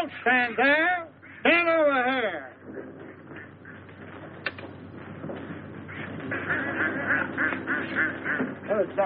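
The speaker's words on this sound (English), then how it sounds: "Look at those ducks." Ducks quack and honk at a park pond in a 1932 film scene, harsh calls running for about nine seconds beneath a voice talking in the opening seconds.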